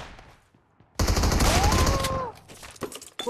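Close, loud burst of rapid automatic gunfire in the mobile battle-royale shooter PUBG Mobile, a dense volley lasting over a second before tapering off into scattered clicks and game sounds.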